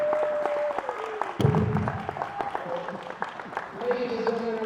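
Audience clapping and cheering after a council candidate's speech at a public event, a burst of loud applause that swells partway through and continues with a voice talking over it.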